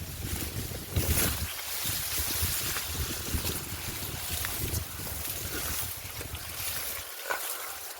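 Steady wind rushes and buffets across the whole stretch, a broad continuous roar with a few stronger gusts, no voices.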